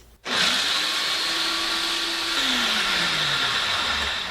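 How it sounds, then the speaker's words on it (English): A food processor grinds basil pesto into a paste, its motor starting abruptly and then whirring loud and steady throughout, the pitch dropping slightly as the mixture thickens. "You just want to pop the lid on your food processor and process it for 15 seconds"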